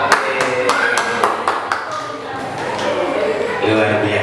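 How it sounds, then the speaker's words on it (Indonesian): Applause from an audience at an Indonesian school teachers' session, a burst of sharp claps that thins into scattered clapping, heard under and alongside a speaker's voice. "Luar biasa, tepuk seikhlasnya."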